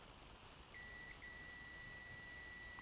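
Continuous continuity-buzzer beep from a Kaiweets HT118A true RMS multimeter, a steady high tone that starts partway in, breaks off briefly with a small interruption, then resumes and holds, with no talking.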